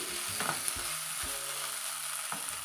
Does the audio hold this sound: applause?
no